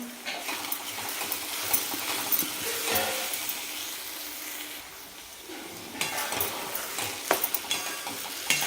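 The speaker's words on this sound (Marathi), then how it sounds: "मिक्स करून घ्यायचं" A spoon stirring eggplant bharit in a pan, a continuous scraping and sizzling close by with periodic louder scrapes, and no voice heard.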